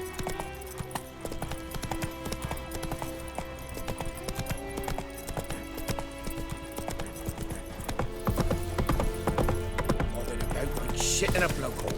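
Roach, Geralt's horse in The Witcher video game, clip-clops along in a steady hoof rhythm that carries throughout, growing louder near the end, with a brief whinny and faint game ambience behind.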